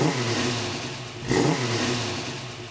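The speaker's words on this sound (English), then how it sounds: "Here's the sound of an infamous American V8." A cross-plane crankshaft American V8 revving up close, a loud, steady throaty rumble that surges in one sharp throttle blip midway before settling back to a burbling drone.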